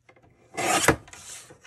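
Card stock for a snow globe Christmas card being trimmed: one short, close scraping cut lasting under a second, followed by a fainter rustle of paper.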